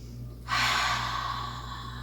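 One deep, forceful breath is drawn during a core-focused yoga flow, a rushing, airy inhale that starts suddenly and stays close and strong over a low steady hum in the room.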